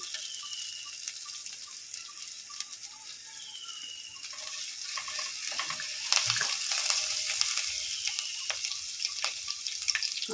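Grated ginger and garlic fry in a pan, giving off a soft, steady hiss of sizzling. It grows slightly louder and more crackly partway through, and no one speaks.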